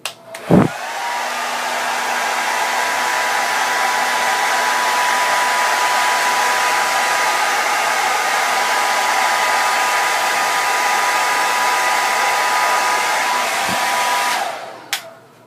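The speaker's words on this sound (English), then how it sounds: "I'm going to keep on blow drying it." A hair dryer on its hot, high setting blow-dries hair in one steady, loud, continuous whoosh lasting about fourteen seconds, with a click at start and stop and no talking.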